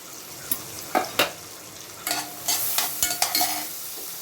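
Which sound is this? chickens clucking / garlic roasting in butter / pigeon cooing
garlic roasting in butter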